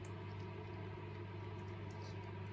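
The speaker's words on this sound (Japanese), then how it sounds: "レンジ、電子レンジの音がして" A kitchen microwave oven runs, producing a steady, faint, low electric hum with no change in level across the short stretch.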